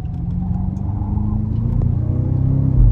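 An Audi RS5 or BMW M5 sliding in all-wheel drive mode, its engine revving loudly and steadily with the pitch climbing, close and continuous, with no talk.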